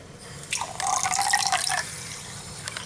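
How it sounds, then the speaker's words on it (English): A short splash of water pours into a bowl of eggs for about a second, a bright trickling gush that starts and stops cleanly, with no talking. "And then I add in a splash of water."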